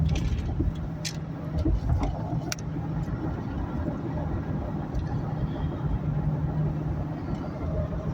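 A 2000 Ford Expedition hauling large firewood rounds cruises steadily on a mountain highway, its engine and road noise forming a continuous loud drone with tire rumble throughout.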